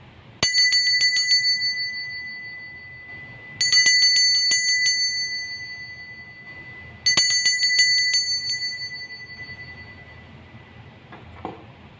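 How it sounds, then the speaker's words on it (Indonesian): A bicycle-style bell rings three times at even intervals, each bright ding ringing out and slowly fading before the next, with faint background noise between. "Kita akan memulai dengan ditandai lonceng berbunyi"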